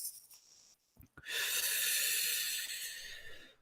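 A person takes a short breath in, then lets out a long, slow exhale, a soft airy hiss that swells and tapers gradually, close and alone.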